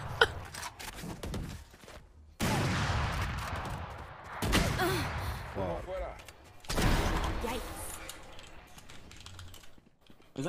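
A Shorty shotgun fires in a competitive shooter match: two heavy booming blasts stand apart from busy keyboard clatter. Voices chatter over the action between shots.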